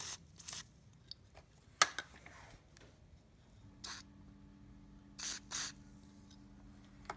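Short hissing bursts of spray lubricant hit a Honda CRF250X dirt bike's kickstarter spline and nearby parts, several separate puffs with quiet pauses between them, close and clear.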